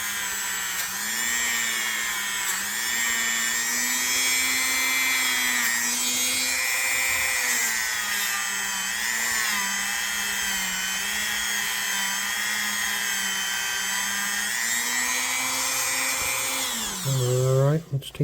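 A rotary tool whines steadily as it grinds stubborn rust, a loud, close, high-pitched motor tone whose pitch wavers with load before it spins down at the end.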